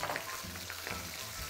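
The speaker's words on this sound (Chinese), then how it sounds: "基本上我们在锅里边差不多三成热的时候我们就把虾下去啊，这个虾呢就整个倒进去啊" Shrimp tipped whole into moderately hot oil in a wok, with a little water clinging, crackling and sizzling steadily at low level, with soft stirring scrapes.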